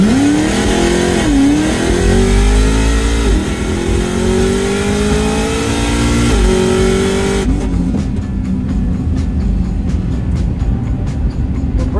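An 8-second drag racing car accelerates down the strip, a loud engine roar rising through rapid gear-by-gear pitch climbs, then cutting off abruptly, leaving crackling pops and nearby idling.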